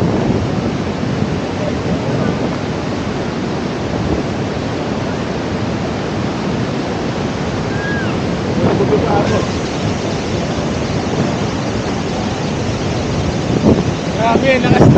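Rushing water at Madongan dam and irrigation canal, a steady loud broadband roar continuing throughout, with brief voices and outdoor noise breaking through near the end.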